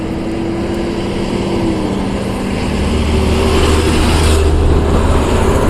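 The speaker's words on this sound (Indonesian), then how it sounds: "Oke, awas, ada truk." On a road ridden on a Yamaha All New NMAX 155 scooter, a truck rumbles past with a deep engine drone that grows louder and heavier midway, over steady wind and traffic noise.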